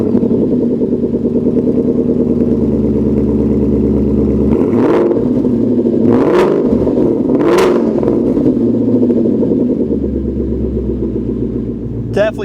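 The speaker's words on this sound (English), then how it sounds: "Now let's see how our Borla S-Type sounds." A 2013-2014 Mustang GT V8 breathing through a Borla S-Type Stinger cat-back exhaust, idling with a deep burble then snapping through three sharp, loud revs close by before settling back, with a voice talking over it.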